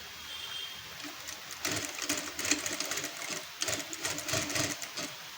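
Sewing machine stitching the lining onto a blouse, heard in quick mechanical bursts: a short run near the start, then two longer, louder stretches of rapid stitching with brief pauses between.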